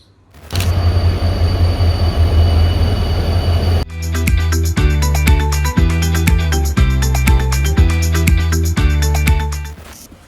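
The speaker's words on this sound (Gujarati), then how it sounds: "આવે છે આપણી ટ્રેન" A metro train rumbles into an elevated station in Gujarat. A steady hiss gives way to a humming electric motor whine, and wheels clack rhythmically over rail joints, loud and close.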